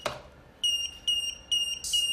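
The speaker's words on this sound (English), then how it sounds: "It's keep beeping because it's running out of battery, so the voltage is low." A battery tester sounding its low-voltage warning while checking a nearly drained 4S battery: a short rising chirp, then three sharp high-pitched beeps at roughly half-second intervals, clear and close in a quiet room.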